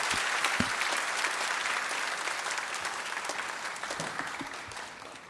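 A church congregation applauds to welcome the pastor, a sustained wash of many hands clapping at moderate distance, steady throughout and gradually easing toward the end.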